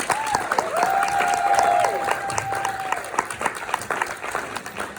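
An audience claps for social workers at a comedy set, a modest, uneven patter of scattered hands with a tonal whine and some murmuring underneath, tapering off over a few seconds.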